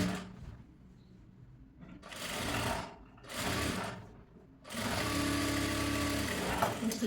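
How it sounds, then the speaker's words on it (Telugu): A sewing machine runs top-stitching on a blouse, close and steady whirring in three bursts, two short runs followed by a longer continuous one, with no voice over it. "ఇప్పుడు దీనిపైన టాప్ స్టిచ్ ఒకటి వేసుకొని"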